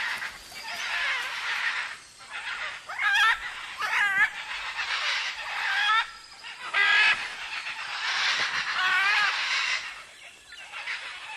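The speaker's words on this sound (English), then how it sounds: "Young, non-breeding pairs and adolescent birds gather and playfully squabble in the palm trees" Harsh, raspy squawks and screeches of great green macaws overlap in a noisy squabble in palm trees, several birds calling at once, fairly close and continuous.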